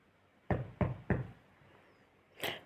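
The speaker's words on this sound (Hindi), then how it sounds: "बाहर शायद आपको दरवाज़ा नॉक करने की आवाज़ आ रही हो" Three quick solid knocks on a home's front door, close and distinct, followed after a pause by a single softer rap.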